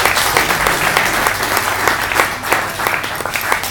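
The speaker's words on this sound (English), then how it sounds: "So please, a round of applause for Chris" Audience applause at a Security Institute briefing, steady and full, many hands clapping densely throughout with no talk over it.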